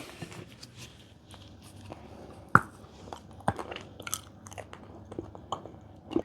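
Someone bites into and chews a cocoa snack with cola-flavoured bits inside, giving a few sharp, close crunches followed by softer, irregular chewing, with no talk.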